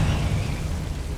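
The Confringo fire spell in Hogwarts Legacy lands as a deep rumbling blast that rolls on steadily for about a second, heavy in the low end, with no voices.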